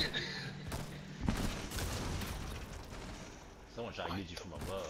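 Gunfire in Rainbow Six Siege, a sharp shot and muffled bursts with rumbling action beneath excited players' voices talking over it.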